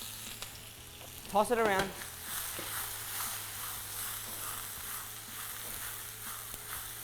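Vegetables sizzle and crackle steadily in a hot pan for a stir fry with crispy egg noodles, with a brief clatter of stirring and a voice speaking over it.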